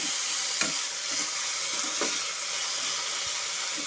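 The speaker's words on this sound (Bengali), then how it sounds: "এখন আমি লবণ আর হলুদের সাথে শাকটাকে ভালো মতো করে মিশিয়ে নেব।" Mustard greens stirred with salt and turmeric in a pan over low heat give a steady, close sizzling hiss, broken by a few soft scraping strokes of the spoon.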